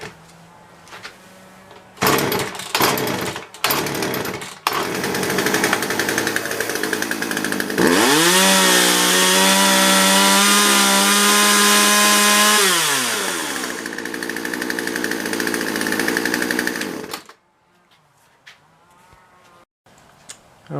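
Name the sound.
chainsaw engine starting and running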